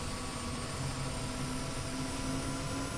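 Engine of an Mi-8MTV2 helicopter in the DCS flight simulator as the throttle comes up, a loud steady turbine whine and roar with a sustained tone, constant throughout with no talking.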